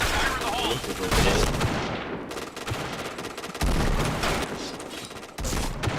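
Rapid gunfire in a shooting video game: loud, dense bursts of automatic shots and cracks run almost continuously, mixed with game effects and brief gaps.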